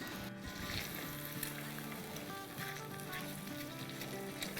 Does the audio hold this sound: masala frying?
yes